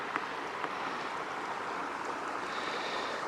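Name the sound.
gentle little stream, Lemmon Creek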